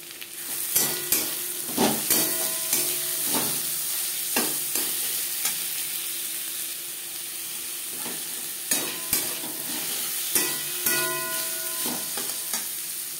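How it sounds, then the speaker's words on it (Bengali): Carrots and capsicum fry in a pan for a spicy semolina dish, with a steady close sizzle broken by repeated sharp scraping clacks of a spatula stirring the vegetables. "গাজর ভেজে নেওয়ার পর দিয়ে দেবো ক্যাপসিকাম।"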